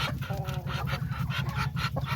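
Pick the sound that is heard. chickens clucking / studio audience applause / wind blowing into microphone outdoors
chickens clucking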